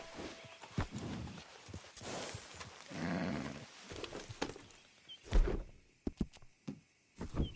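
A horse in the video game Red Dead Redemption 2, with steady clip-clopping hooves and a snort or two, close by and moderately loud, while other outdoor sounds carry on around it.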